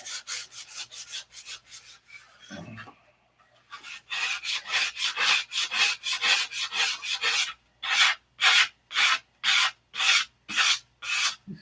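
An aircraft part with hangar rash is sanded by hand to remove scratches, a close, loud rasping stroke repeated in a steady back-and-forth rhythm, about two dozen strokes with a short pause near the start.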